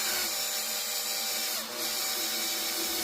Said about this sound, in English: Now I'm going to use this buffing wheel on here.